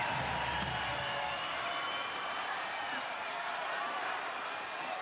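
Tampa Bay Rowdies supporters, including the Skyway Casuals cheering section, roar steadily in a stadium during a USL Championship playoff soccer match against Louisville City FC, a broad continuous crowd wash with low rumble early on and a commentator's voice over it.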